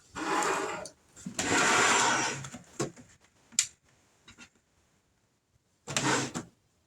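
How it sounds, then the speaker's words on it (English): A sewing machine stitches fabric in short loud bursts, two longer runs and a later burst separated by quiet, with small clicks between, close by and without talk. "this is going to get loud just for a little bit with the sewing machine"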